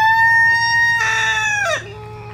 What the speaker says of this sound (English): He's like, cock-a-doodle-doo.